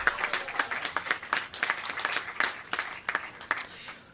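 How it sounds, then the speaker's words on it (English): A crowd at an outdoor groundbreaking ceremony for affordable apartments gives a short round of applause, loose and uneven clapping with distinct individual claps, fairly close and lasting about four seconds. "I'd like everybody to give a big round of applause to Caton Gada"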